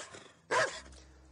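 A dog gives a single sharp bark, loud and fairly close, standing out over a low quiet background.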